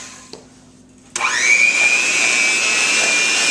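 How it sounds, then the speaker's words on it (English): An electric mixer switches on after a quiet moment and whirs loudly and steadily at high speed, creaming butter and sugar for holiday treats. "All right, now Michaela is going to mix that up using a mixer."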